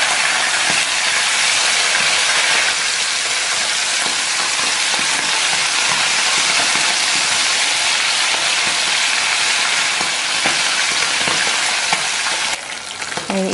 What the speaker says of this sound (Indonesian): Kalau sudah dicuci, kita akan goreng ikan asinnya.